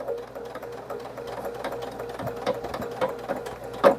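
A sewing machine stitches a line along a 30 by 30 tote bag, running as a soft, steady mechanical whir with light rhythmic clatter, close by and fairly quiet.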